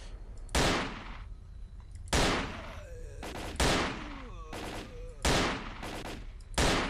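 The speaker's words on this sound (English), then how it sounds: "This gun has so much recoil. It's cool to shoot, though." Heavy, hard-recoiling gun in S.T.A.L.K.E.R. Call of Pripyat fires five loud, evenly spaced single shots, each with a sharp crack and a long decaying echo, while faint whining sounds drift between the blasts.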